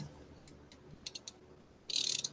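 A ratchet drives an Allen socket on a disc brake, giving a few quiet ticking clicks followed by a quick, denser burst of ratcheting, close up with no talk.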